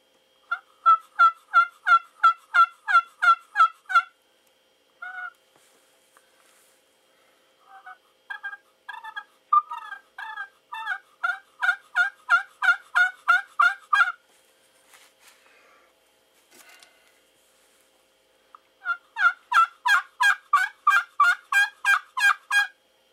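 Rapid series of high, raspy turkey yelps from a pot call, played in repeated runs of evenly spaced notes with pauses between, close and clear.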